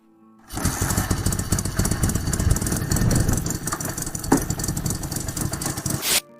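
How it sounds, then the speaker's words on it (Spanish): Boxer motorcycle engines, both two-stroke and four-stroke opposed-cylinder types, run close by. A steady loud mechanical drone holds for about six seconds, with no one talking, then cuts off sharply. "Aquí hay una pequeña selección de motores boxer, tanto de 2 como de 4 tiempos."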